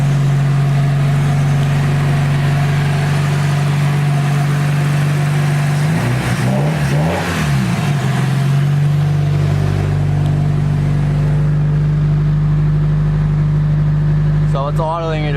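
Nissan S14 with an SR20 engine idling around 1,500 rpm while warming up: a loud, steady close engine drone with a slight wavering swell in the middle, continuous throughout.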